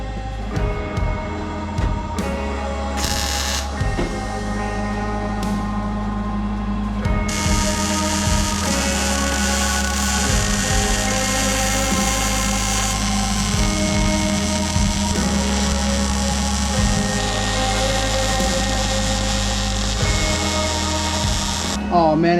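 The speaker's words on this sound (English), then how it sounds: "So let's get to welding." Loud, continuous crackling buzz of welding on car engine bay tubs in a garage, steady throughout with a heavy low hum underneath and brief shifts in intensity.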